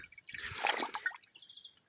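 Dirty water drains and drips from an Ardesto washing machine under repair, a short, close, faint liquid splash and trickle that fades out.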